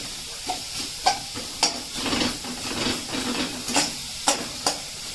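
Onions frying in a pan, stirred with a spatula, producing a steady sizzle broken by sharp repeated scrapes and knocks against the pan at an uneven rhythm, close and fairly loud, no voices.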